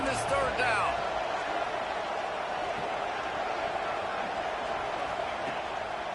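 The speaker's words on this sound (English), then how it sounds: "The crowd electric, trying to help Tech on this 3rd down." Loud, dense stadium crowd roar at a Texas Tech college football game on third down, a steady wall of noise throughout with brief whistles and shouts early on.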